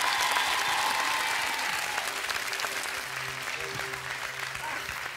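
Studio audience on a French television talent show applauding the singer, a dense burst of clapping that gradually fades, with faint tonal sound entering toward the end.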